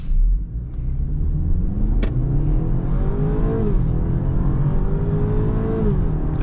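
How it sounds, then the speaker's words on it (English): A 2023 BMW X3 accelerates hard through its 8-speed automatic, the engine note climbing in pitch and dropping sharply at each quick upshift, heard from the cabin as a close, steady roar with no voices. "That wasn't even full throttle, and this thing seriously shifts very aggressive."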